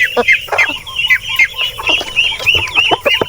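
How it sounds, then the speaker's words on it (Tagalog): A flock of farm chickens waiting for feed clucks and squawks loudly and close by in quick, overlapping bursts, with no voices. "Nag-aantay na sila ng pagkain mga kaparmers. Naghahanda pa lang si Brad ng kanilang patuka"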